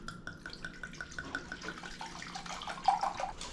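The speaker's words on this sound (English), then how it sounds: "I'm going to use about a cup, so I'm going to pour this into this glass here." Dry white Bordeaux wine pours into a glass in a kitchen, a continuous gurgling trickle with small splashing bubbles that grows slightly louder toward the end.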